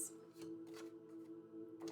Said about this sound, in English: Asking me to shuffle again for the key.